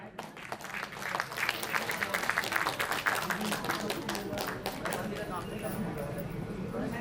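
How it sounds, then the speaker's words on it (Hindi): An audience at a welcoming ceremony claps loudly, uneven bursts of applause swelling and thinning with sharp individual claps close by, and a voice talking over it. "एक बार जोरदार तालियों के साथ"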